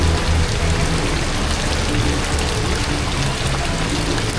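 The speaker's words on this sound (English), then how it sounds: "look how much it just rained" Heavy rain pours down hard enough to run off like a little river, making a steady, dense close-up hiss of drops that holds evenly throughout with no talking.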